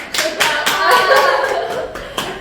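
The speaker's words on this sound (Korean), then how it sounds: "이것도 다시 한번 박수 드려야 하지 않겠습니까?" Several people clap together during a Korean interview about a social worker's award, with close, sharp hand claps in quick bursts and a light chuckle mixed in.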